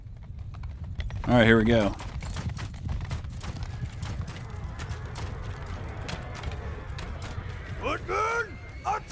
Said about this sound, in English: Horse archers! Move!